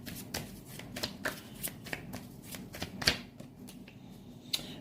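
Tarot cards are shuffled for a reading in quick, close riffling bursts with soft slaps and flicks, fairly quiet, with no talking.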